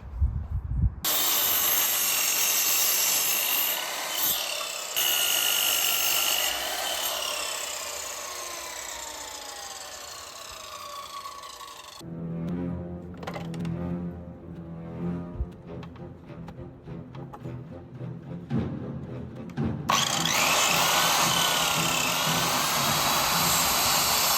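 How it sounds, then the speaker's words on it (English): Loud whining miter saw and table saw bursts cutting wood for a dining chair repair, with motors spinning up, blades biting into timber and winding down in several separate runs, with no talking. "we shall get the miter saw out and the table saw and get these as close to those shapes as we can with those tools"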